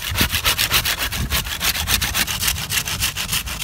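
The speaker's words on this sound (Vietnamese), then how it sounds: "Ok, giờ mình sẽ cưa nha." A saw cuts through an old, straight bamboo stalk in fast, regular back-and-forth strokes, a rasping rhythm with no talking, close and loud.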